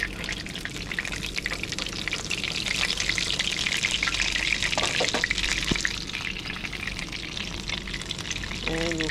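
Parmesan-crusted fish frying in a pan, a dense continuous sizzle with occasional crackles and a brief clatter as the fish is turned near the end.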